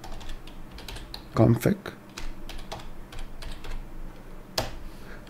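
Keys clatter on a computer keyboard as a terminal command is typed for setting up a Raspberry Pi serial port, with a quick burst of keystrokes partly under a man's speech and a louder tap near the end.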